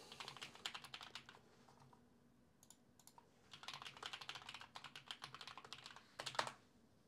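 Close, quiet clicking of a computer keyboard in two bursts of typing separated by a short pause, done to look up thermal paste shelf life.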